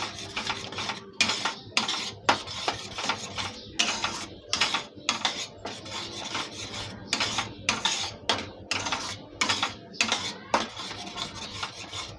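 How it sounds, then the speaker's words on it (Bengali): Food stirred in a pan over a medium flame until it dries out, with repeated rhythmic scrapes and metal clinks of a spoon against the pan, close and fairly quiet, pausing briefly between strokes. "যতক্ষণ না এটা শুকাবে ততক্ষণ এটাকে নেড়ে যাব"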